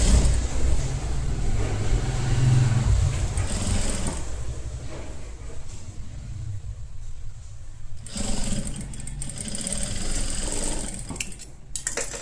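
A sewing machine stitching a blouse belt, its motor whirring steadily and close throughout, with a short pause in the needle's rattle partway through before it picks up again.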